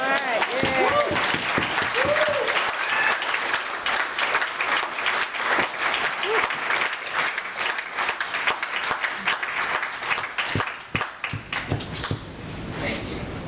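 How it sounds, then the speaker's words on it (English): A keynote audience bursts into sustained applause that dips and swells, with a voice speaking over the clapping now and then. "It's all right, y'all can clap on that."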